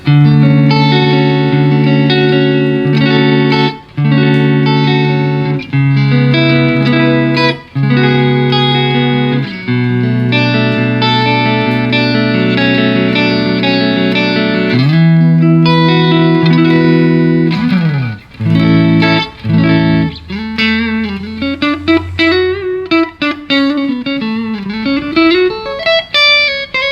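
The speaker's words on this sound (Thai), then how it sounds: "มาที่เสียงคีนก่อนครับปิกอัพตัวเน็กครับ" A Vola electric guitar on its neck pickup with a clean tone, played straight into an amp with no reverb or delay, rings out alone in a loud melodic run of sustained notes, chords and later bent, sliding phrases.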